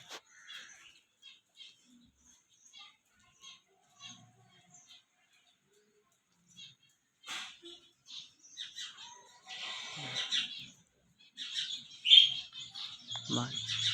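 Sparrows chirp around a nest box in short, faint, scattered tweets, growing busier and louder toward the end with some rustling.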